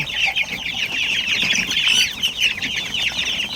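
Several native Tagalog chickens cluck and chatter close by in a continuous busy stream, with a brief rustle of wings, no voices.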